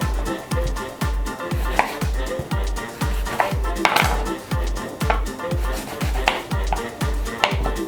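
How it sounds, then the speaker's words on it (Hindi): Fruit being cut with a knife on a board for fruit chaat, including small guavas, as a steady series of sharp, close chopping taps at a regular rhythm, with light clinks of utensils mixed in. "और इसको हम अपने फ्रूट्स को जो है वो कटिंग करते हैं।"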